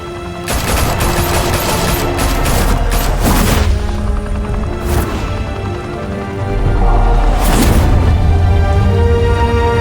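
Heavy gunfire erupts in the Batman Telltale Series video game: loud, sustained bursts of automatic shots and booming blasts, close and dense for nearly ten seconds with only brief lulls.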